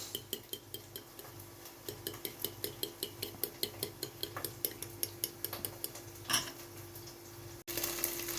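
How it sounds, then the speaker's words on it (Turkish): Eggs being beaten with a fork for Turkish menemen, a quick steady run of light clicking taps against the bowl over a faint background sizzle, close and clear, ending in a brief clatter. "Şöyle çatalla. Çırpıyoruz."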